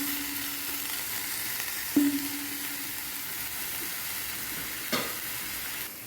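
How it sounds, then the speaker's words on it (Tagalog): Onion browning in a pan for lamb majboos, a soft, even sizzle close by with a few brief knocks of a utensil against the pan, no voices. "We will just brown a little our onion."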